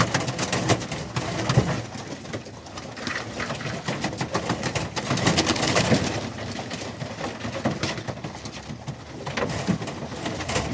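Pigeons coo continuously inside their loft, with soft overlapping calls and wing shuffles in a steady, busy murmur throughout, close and moderately loud, with no talking.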